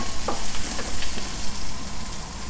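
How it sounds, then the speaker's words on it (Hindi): Carrots fry in a hot pan for vegetable fried rice, a loud, close sizzle broken by repeated scraping stirs at a quick, uneven rhythm, with no talking. "गाजरों को 2-3 मिनट भून लेने के बाद अभी इसमें हम डालेंगे ग्रीन चिलीज"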